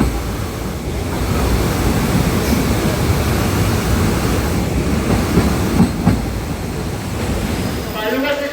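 Amrit Bharat Express train rolling near the Farakka barrage, a steady loud rumble with rhythmic clatter of wheels on track, continuous and close throughout.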